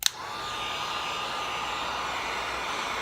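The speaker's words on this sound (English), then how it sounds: "So I just use the heat gun and melt a small chunk of pitch in there." A heat gun blows with a steady, loud hiss and whine, melting a small chunk of chaser's pitch for a chasing and repoussé setup, running alone after a brief click at the start.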